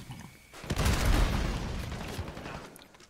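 A loud burst of rapid gunfire with a booming blast in the shooter video game Warzone, starting abruptly after a quiet moment and trailing off into echoing rumble.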